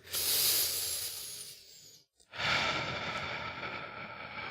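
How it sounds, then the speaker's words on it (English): Deep, slow breathing during a guided meditation: a long, airy exhale or inhale, a brief pause of silence, then another steady breath, close and alone without talk. "you're just going to breathe in and out"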